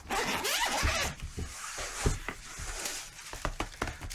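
A VaultX binder's zipper is pulled open in several quick rasping strokes, close and fairly loud, followed by soft handling taps and rustles.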